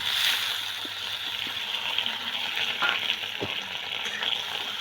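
Medium potatoes frying in a pan with cumin seeds and curry leaves, a bright continuous sizzle close by, with a few small taps and crackles scattered through and no voices.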